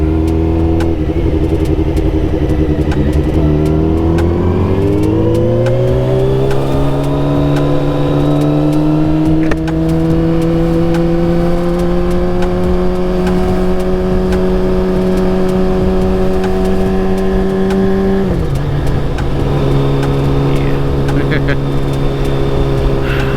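A Kawasaki ZX12R motorcycle engine pulls steadily in first gear, its loud, close drone rising in pitch as it revs up, holding high, then dropping briefly before settling again, with no talking over it.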